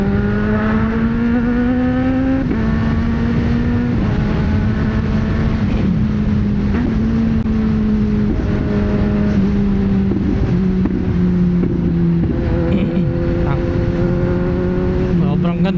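A Kawasaki Ninja 1000SX sport motorcycle engine revs loud and close on a test ride. It holds a steady, strained drone, with the pitch stepping between gear shifts and a few sharp pops from backfire.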